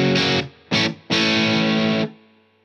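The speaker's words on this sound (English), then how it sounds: "So the ES-335 straight into the Revival Drive sounds like this." A Gibson ES-335 electric guitar through a Revival Drive overdrive pedal plays three distorted chord strums, two short stabs then a longer sustained chord that rings out and cuts off, with no talk.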